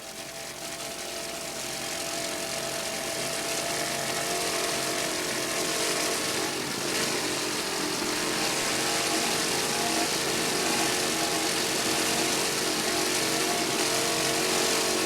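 A 33-foot Fountain offshore powerboat races in a world championship event at Key West, its engines a loud, steady roar that swells over the first couple of seconds and then holds, with no voices.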